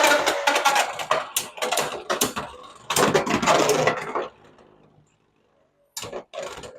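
A Beyblade X Savage Bear top launched and spinning in a stadium: a loud, close burst of rapid clattering and scraping that fades to a soft whir and near silence, followed by two short knocks.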